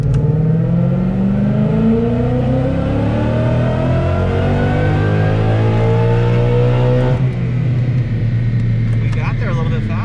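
A supercharged car engine, fitted with a VMP TVS supercharger, revs hard on a dyno and climbs steadily in pitch through a long pull, then drops off sharply near the end. Loud and close, with supercharger whine.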